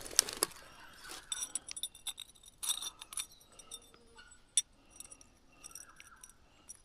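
Broken glass bottle pieces clink and tick in a handful of short, bright hits spread across the stretch, with a light rustle between them outdoors on a mountainside.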